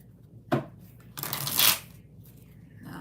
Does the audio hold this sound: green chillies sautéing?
no